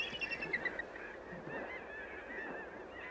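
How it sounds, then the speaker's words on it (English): Geese honk repeatedly in quick, overlapping calls at a moderate distance, a flock calling over a steady outdoor background at a wildlife refuge. "Magnificent flocks of ducks and geese are a thrilling sight at both refuges."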